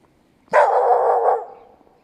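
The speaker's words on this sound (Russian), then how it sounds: "Собачка здесь местная, мне не очень рада." A local dog in a residential courtyard gives one sustained, loud, close bark-growl lasting about a second, then fades into quiet.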